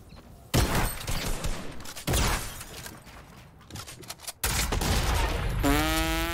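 Bursts of gunfire ring out in a Fortnite match, several loud volleys separated by short gaps, with a rising mechanical whine near the end.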